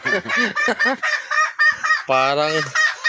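Bantam chickens and jungle fowl crowd together close by, giving rapid clucks and a loud drawn-out crow in the middle, with fowl calls following one another in quick bursts.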